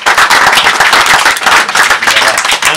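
Loud, close clapping from a gathering at an auto-cross event in a French village, a dense burst of hands applauding the local team leaders without any talk over it.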